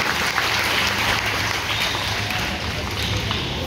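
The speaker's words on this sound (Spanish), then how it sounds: "Les pedimos un fuerte aplauso para nuestros maestros" Concert audience at a choral concert in Tijuana applauding the choir teachers, a dense steady wash of clapping throughout with a low hum underneath.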